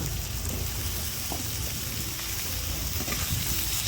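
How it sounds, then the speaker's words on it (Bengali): Chopped potato, pumpkin and eggplant fry together in a pan for a noty shaak ghonto, giving a steady close hiss with soft crackles and faint stirring throughout. "সবগুলো সবজি কিছুক্ষণ ভেজে নেব"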